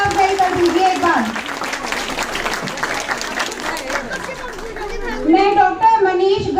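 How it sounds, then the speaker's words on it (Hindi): A crowd at a Christmas Day function at an ashram claps for a children's dance performance. The applause is moderately loud and mixed with crowd chatter and voices speaking over it. "तो जोरदार तालियों के साथ हमारे बच्चों को हौसला अफजाई कर दीजिए एक बार।"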